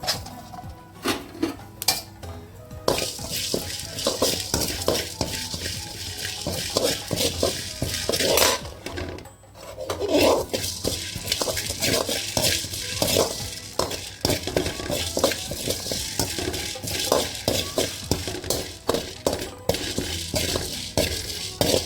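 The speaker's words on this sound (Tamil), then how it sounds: "கொத்தமல்லி சீரகம் இந்த மிளகு சீரகத்தையும் போட்டு வறுத்துக்கலாம்" Coriander seeds, cumin, black pepper, garlic and curry leaves dry roasting in a pan for Andhra paruppu podi, with steady scraping and clinking of a metal spoon against the pan, close and continuous, and a few brief sharper clinks.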